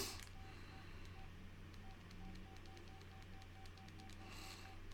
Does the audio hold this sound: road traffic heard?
no